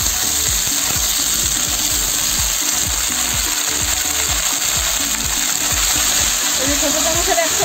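Vegetables fry in hot oil with cumin seeds, a steady loud sizzle with crackling spatter and occasional stirring clatter, close up; beans with ridge gourd and potato cooking in a pan.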